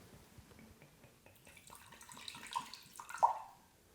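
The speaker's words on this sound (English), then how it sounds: "I'm just going to pour in the champagne vinegar until we're up to the 50 milliliter mark" Champagne vinegar trickles faintly into a measuring jug, the thin liquid stream building toward the end with a few small splashes in a quiet kitchen.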